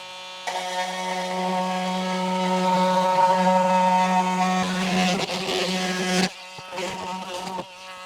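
An oscillating multi-tool with a carbide blade cuts into a boat transom during a Seacraft restoration, a steady close buzzing drone with harmonic whine that turns ragged and stops, then briefly restarts.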